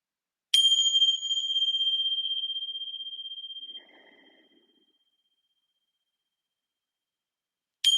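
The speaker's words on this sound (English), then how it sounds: "I'll close our practice today with 2 sounds of the little bell" A little bell rung to close a practice session gives one bright, clear ding that rings out and slowly fades for about three seconds, followed by silence and then the start of a second strike at the very end.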